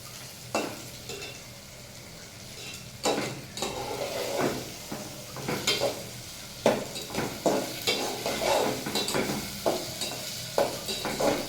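Mung dal frying lightly in a pan with bay leaf and cinnamon, a steady low sizzle broken by frequent scraping stirs of a spoon against the pot, close and fairly loud, with no one speaking.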